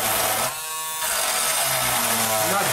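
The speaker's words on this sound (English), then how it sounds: "I'm using, I think it's the deburring tool." A high, steady buzzing grind from a small rotary deburring tool wearing into plastic runs through most of the clip, dipping briefly, with a low voice murmuring underneath.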